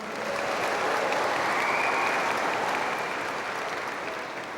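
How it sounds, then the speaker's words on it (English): A graduation crowd at a high school commencement gives a speaker named Marnie another round of applause, steady loud clapping from a large audience that continues throughout before easing slightly at the end. "Let's give Marnie another round of applause."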